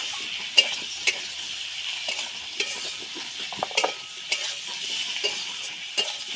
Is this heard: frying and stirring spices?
yes